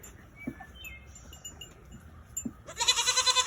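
Goat bleats from a farm goat pen, one short cry near 0.5 s and a louder, sustained bleat at the end, with quieter animal and bird calls around them.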